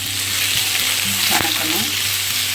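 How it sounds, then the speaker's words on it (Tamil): Onions and tomatoes sauté in hot oil for sambar, a loud, dense, steady sizzle close up with a faint stir partway through and no talking. "ஒரு 2 நிமிஷம் நல்லா வெங்காயத்தை வணக்கிட்டு அதோடைய தக்காளியும் போட்டு"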